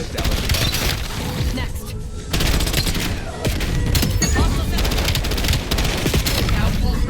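Rapid automatic SMG fire from Black Ops 7 rattles in dense, continuous bursts with brief gaps, loud and close amid other gunfire and game effects.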